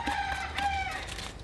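Roosters crowing near a garden where a bonsai is being repotted with a root rake, a clear drawn-out crow riding over a steady outdoor background with no talking.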